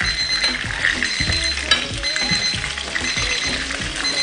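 A kitchen timer rings on with a steady, high electronic chime while samsa and chebureki fry, the sizzle of hot oil running underneath throughout.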